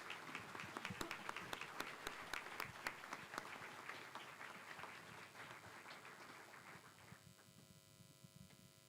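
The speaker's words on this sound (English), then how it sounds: "Let's give it a round of applause." Faint audience applause at a European CAP Network launch event, a scattered clatter of clapping that thins and fades over several seconds until only a low electrical hum remains.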